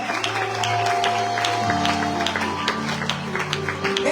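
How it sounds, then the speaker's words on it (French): A church congregation applauds and cheers for an extraordinary woman during a French-language sermon, steady clapping filling the room with held organ or keyboard tones underneath throughout. "Acclame ça."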